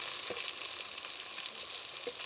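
Dry chili powder and ground spices sizzle in hot oil as a mushl curry base is made, a steady quiet crackle with a few faint stirring scrapes and no talk.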